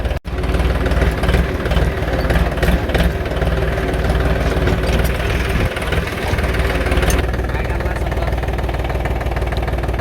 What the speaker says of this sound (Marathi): आता ट्रॅक्टर घेऊन चालू मळ्यात.